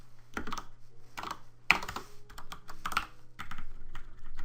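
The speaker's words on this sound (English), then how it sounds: "Sorry about my awful typing." Fingers clatter across a computer keyboard in quick irregular bursts of keystrokes with short pauses between them, close and clear, with no talking.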